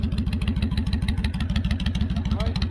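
A truck engine idling with the idle turned up, close and loud, a steady rapid low-pitched rhythmic chug with clattering throughout.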